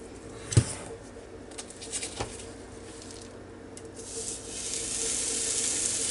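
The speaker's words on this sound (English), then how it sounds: "It's definitely hot. It's already sizzling." Steady hiss of beef cube steak sizzling on a hot George Foreman electric grill, with a couple of sharp pops and knocks early on and the sizzle growing fuller later.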